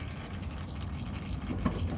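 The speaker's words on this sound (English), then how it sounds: "Still dripping right there." Motor oil dripping from the underside of a 1998 Chevy Tahoe during an oil change, soft wet drips over a low steady background rumble, with a few clearer drops near the end.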